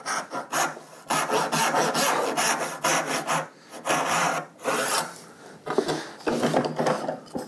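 A handsaw cuts through wood along a marked line for a tenon shoulder, close and loud, with a rhythmic rasping of push and pull strokes broken by short pauses.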